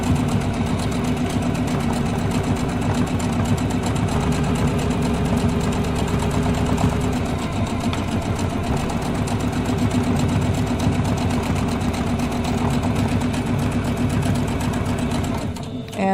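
A Kimberbell embroidery sewing machine back stitching, its steady rapid mechanical whir running close and loud without pause for about sixteen seconds before stopping at the end.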